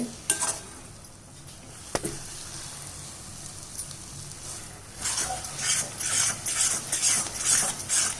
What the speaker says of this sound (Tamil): இப்போ மீடியம் ஃப்ளேமில் தான் வச்சு நான் கிண்டிகிட்டு இருக்கேன்